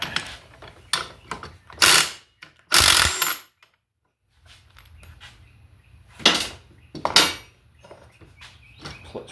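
Ratchet wrench clicking and metallic clanks while removing a 15/16 bolt and nut from the brake pedal of a 1966 Ford Mustang, loud close bursts separated by quieter pauses.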